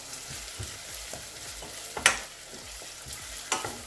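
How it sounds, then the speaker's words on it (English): Onions frying in a hot, dry pot, a steady sizzle broken by rhythmic scraping stirs and two sharper clatters of the spoon against the pot, close and moderately loud with no talking. "Once it heats up, you add the onions."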